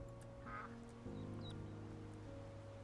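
Ducks quacking in a video game, a single faint, brief quack and a few soft chirps over a constant tonal drone of background music.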